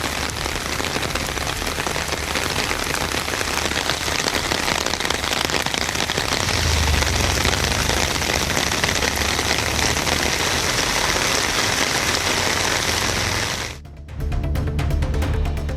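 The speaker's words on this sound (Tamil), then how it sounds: "கரும் மேகங்கள் சூழ்ந்து கனமழை பெய்ததால் குளிர்ச்சியான சூழல் ஏற்பட்டது" Heavy rain pours under dark clouds in a Chennai suburb, a dense, loud, unbroken hiss that holds for about fourteen seconds before a brief dip and a sharp change in texture.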